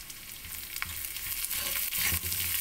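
Curry leaves drop into chopped onions already frying in oil, giving a soft, steady sizzle that grows slightly louder toward the end, close by and without any voices.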